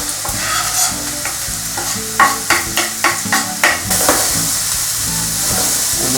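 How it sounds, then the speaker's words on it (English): A vegetable base for Italian lasagne hits a very hot pan and sizzles loudly up close, with a series of quick rhythmic stirring scrapes midway before the hiss settles into a steady fry. "now I've got the pan on very hot, so it's going to sizzle away"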